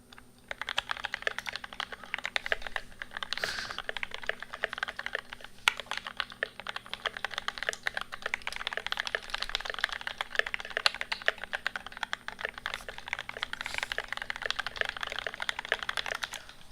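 Steady, fast typing on an ID80 mechanical keyboard, close up and continuous with dense clacking keystrokes and the odd louder key hit, no voices over it.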